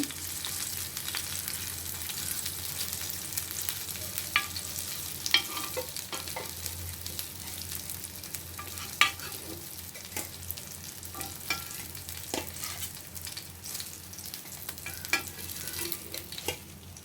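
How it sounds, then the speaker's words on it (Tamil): Pieces of masala-coated fish fry in hot oil with a steady, dense sizzle throughout, punctuated by occasional soft clicks and scrapes of stirring, close and fairly loud. "இதே மாதிரி எல்லா மீனையும் பொரிச்சுக்கலாம்"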